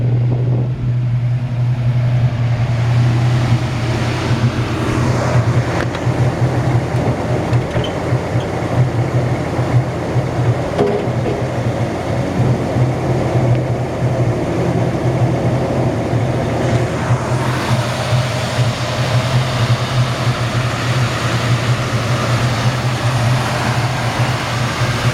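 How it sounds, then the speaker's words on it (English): A 1964 Ford Galaxie 500XL idling slightly high, a steady low rumble holding constant for the whole stretch, close and loud with no talking. "It sounds like the idle's up a little bit."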